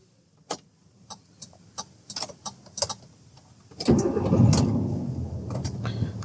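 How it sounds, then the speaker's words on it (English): A manual-transmission car: a series of sharp clicks and ticks, then the engine cranks and catches at about four seconds, settling into a steady running rumble nearby. "So guys, let's start the car"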